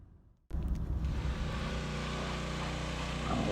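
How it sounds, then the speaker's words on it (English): Truck hauling a trailer carrying a 450 Case dozer starts up after a brief quiet moment, then gives a steady, loud engine rumble and road drone as it drives along. "here's just a little dab of us driving down the road, getting ready to get toward the 4-lane and get back to the shop"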